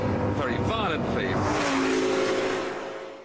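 Lamborghini Gallardo Superleggera engine roaring loudly at close range, with a sharp, abrupt jolt of an automatic gear change and a strained, rising note settling into a steady drone.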